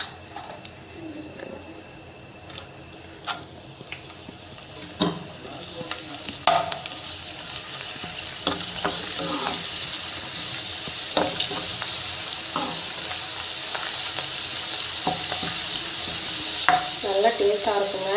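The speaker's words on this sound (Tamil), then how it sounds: "இதை வந்து நம்ம வறுக்கிறத வந்து பார்த்துக்கலாம்" Cluster beans sizzle steadily in hot oil in a village kitchen, a constant bright frying hiss with scattered clinks and scrapes of stirring.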